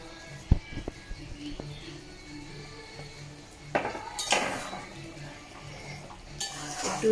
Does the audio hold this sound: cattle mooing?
no